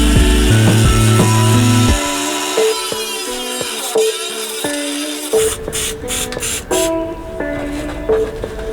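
A cutting tool trims out a panel area during a headlight retrofit on a first-generation Toyota Sequoia, giving a close, whining grind whose pitch wavers and shifts before it breaks into choppy, uneven bursts toward the end.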